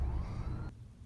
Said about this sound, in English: You can hear the sirens right now